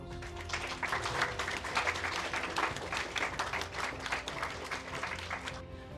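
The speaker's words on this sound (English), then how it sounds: "Give yourself a round of applause." An audience at a summer women's community event applauds itself, broad steady clapping spread across the room for about five seconds before fading out.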